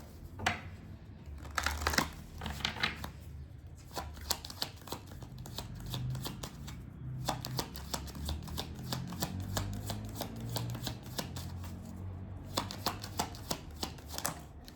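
Tarot cards shuffled by hand in a steady run of crisp, riffling flutters and soft slaps, close and fairly loud, with brief pauses between bursts and no talking.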